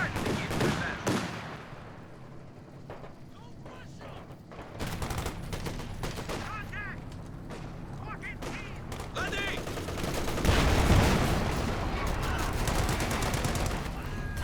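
Gunfire from troops shooting through a hedgerow in the WWII strategy game Company of Heroes 2, with dense rattling bursts and scattered shots over a busy battle bed, swelling louder near the end.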